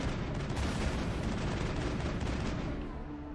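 Dense, loud gunfire from the video game Mass Effect hits kinetic shields, a continuous crackling barrage of shots and impacts that fades slightly at the end.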